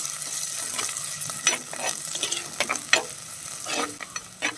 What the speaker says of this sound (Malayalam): ഇനി അതിലേക്ക് അരിഞ്ഞു വെച്ചിട്ടുള്ള ചെറിയ ഉള്ളി ചേർത്ത് കൊടുക്കാം. എല്ലാം കൂടി ചേർത്തിട്ട് നന്നായിട്ടൊന്ന് വഴറ്റി കൊടുക്കാം.